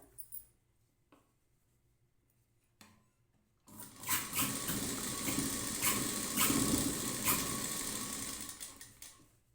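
After a few quiet seconds with small handling knocks, a sewing machine starts up close by, stitching the lining of a blouse with a continuous fast whirring and rattling needle run lasting several seconds.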